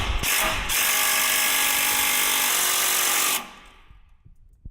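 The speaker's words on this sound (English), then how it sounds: "So you saw the impact wrench, or the impact gun." Quarter-inch impact wrench hammering on a steering crossover part, a loud, rapid, continuous rattle of blows lasting about three seconds up close, then stopping abruptly into quiet.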